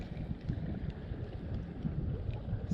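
Strong wind buffeting and rumbling continuously over Lake Oroville, with gusty low roar and faint splashing texture, no voices.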